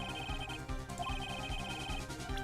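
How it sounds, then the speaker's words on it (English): A phone ringtone from the Ace Attorney video game chimes in a repeating electronic melody with short tonal bursts over a steady backdrop, moderately loud and alone. "Yes, the phone."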